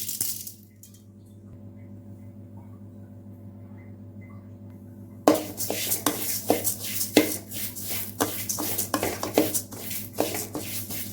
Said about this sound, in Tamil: வெறும் கடாயில் இந்த பச்சரிசி நம்ம ஃபஸ்ட்டு வறுத்து எடுத்துக்கலாங்க